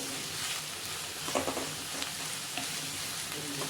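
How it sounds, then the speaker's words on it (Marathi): Chopped onions sauté over a low gas flame, giving a soft, steady sizzle and crackle close up, with a few faint stirring scrapes partway through. "आपण आता कांदा छान परतून घेऊया आपण स्लो गॅसवरती"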